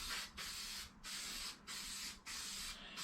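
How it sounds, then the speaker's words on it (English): A spray can hisses in long bursts with brief pauses between them, close and steady, spraying paint onto an RC car body, with no voices. "We're just gonna start spraying."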